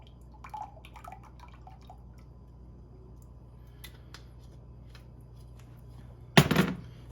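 A teaspoon of A1 steak sauce goes into a homemade jerky marinade with hickory liquid smoke: a long quiet stretch, then one brief, fairly close wet splash near the end.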